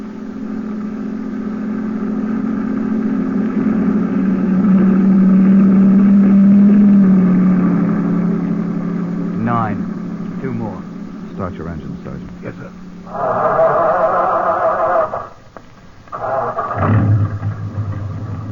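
Trucks in a convoy roll past one after another, engine roar swelling to a close peak then fading, with later bursts of louder engine noise as the next trucks approach.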